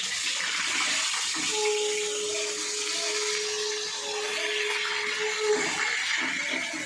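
A fish head frying in hot oil inside a covered pan, a steady, close hiss and sizzle running throughout, with a faint tone holding briefly in the middle and no talking.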